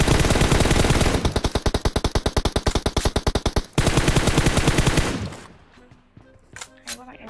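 Loud automatic gunfire in the mobile battle royale game PUBG Mobile, with a dense roar breaking into a fast, even rattle of shots, then a second burst that fades into a few scattered sounds.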